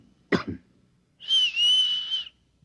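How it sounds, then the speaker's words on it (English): A single sharp cough-like burst, then after a pause a sustained high whistle lasting about a second, fairly close and clear. "I'll cough twice, like this."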